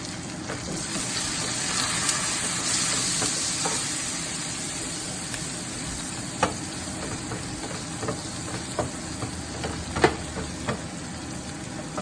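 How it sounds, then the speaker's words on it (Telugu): Onions frying with ginger garlic paste and turmeric in a pan for a Swiss chard leaf curry: a steady, close, dense sizzle with a few sharp pops and crackles scattered throughout. "ఇది ఒక వన్ మినిట్ని ఫ్రై అవ్వనిద్దాం జింజర్ గార్లిక్ పేస్ట్ని ఆనియన్స్ని"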